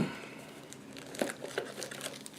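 A BMW Navigator VI GPS unit being lifted out of its small plastic bag gives soft, close crinkling and rustling in a few short bursts, faint and with no talk.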